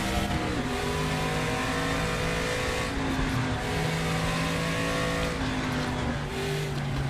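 A racing car in a sim racing game, an old-era machine with a turbo or big American V8 engine, revs steadily and loudly throughout, its engine note rising and falling through gear changes with no voices.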